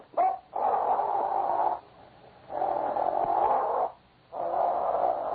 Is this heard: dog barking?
yes